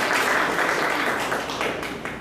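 Audience applause for a presenter after an AngularJS talk at a JavaScript meetup, a dense steady wash of many hands clapping that fades slightly toward the end.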